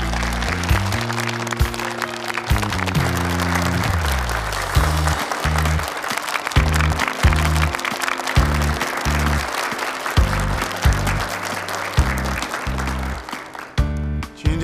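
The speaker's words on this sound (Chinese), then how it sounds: "大家掌声欢迎。" Applause from an audience welcoming people on stage at a project launch ceremony, sustained and dense throughout, with loud stepped bass music playing underneath.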